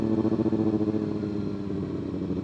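A Kawasaki ZX-6R motorcycle engine gives a steady, pulsing rumble, heard close up from the rider's position while riding.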